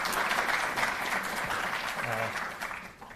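Loud, steady audience applause welcoming a para-athlete at a Delhi government sports felicitation event, a dense wash of many hands clapping that fades slightly toward the end.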